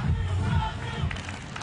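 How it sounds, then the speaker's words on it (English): A beach volleyball crowd roars and cheers at a 2015 World Championships pool match, a dense, loud wash of voices that carries on without a break. "The crowd follow their volleyball wherever."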